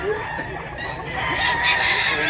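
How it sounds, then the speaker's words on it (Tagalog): Chickens and roosters at a provincial poultry spot cluck and crow in a dense, close chorus, with a brief voice barely present. "Manok, dagang manok"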